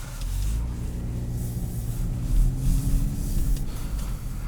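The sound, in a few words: 2017 Buick Regal GS 2-liter turbo four engine, stock exhaust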